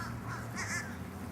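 Crows caw while being tossed bread outdoors, a couple of harsh calls rising over a low background rumble.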